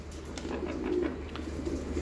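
Pigeons cooing close by on a rooftop, soft low repeated coos over quiet background noise, with no talk.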